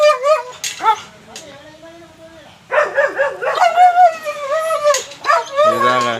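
Close-up whining, yelping and barking from a German Shepherd, rising into drawn-out whimpers and a howl-like cry, with a voice briefly audible alongside.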